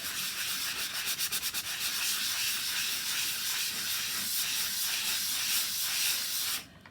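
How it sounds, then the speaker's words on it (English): Sandpaper rubs steadily against a file folder in a continuous, loud, close scratchy hiss with a faint rhythmic back-and-forth, then stops abruptly near the end. "I'm going to do some sanding on top of it"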